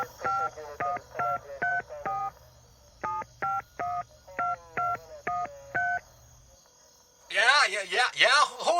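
A cellular phone being dialed in an audio drama: a quick series of about fifteen crisp keypad tones in two bursts over a faint insect-like chirp, then a voice starts speaking.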